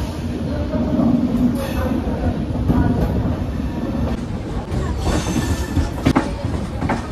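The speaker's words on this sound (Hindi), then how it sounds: "चलो अभी ट्रेन तो खुल गई हमारी" Local passenger train on the Patna to Motihari line pulling away, with a steady rumble of carriages and wheels that builds and holds, plus faint voices and clatter from inside the coach.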